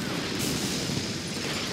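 Massive artillery explosions from the WWII strategy game Order of Battle make a brief, dense, noisy rumble. The burst is moderately loud and muffled, with no clear separate blasts and no talk.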